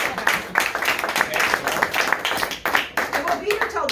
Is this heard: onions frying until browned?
no